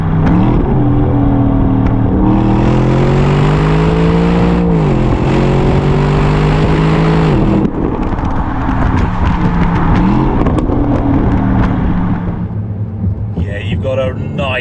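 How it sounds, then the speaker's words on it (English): An Aston Martin DBX engine rumbles deep and throaty as it accelerates, revs climbing through gear changes with a brief dip between pulls, loud and close from inside the car. "Got a nice deep throaty rumble underneath your right foot now."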